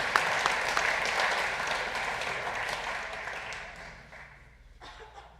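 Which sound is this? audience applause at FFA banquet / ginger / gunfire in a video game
audience applause at FFA banquet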